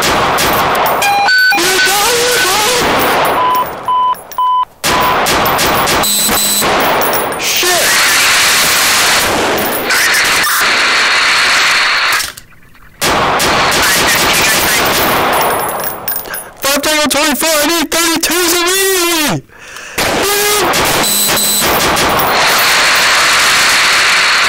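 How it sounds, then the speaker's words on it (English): Rapid volleys of gunshots in a police shooting during a New York domestic abuse call, loud, close, sharp bursts separated by brief silences, with wailing siren sweeps between them. "shots fired, shots fired!"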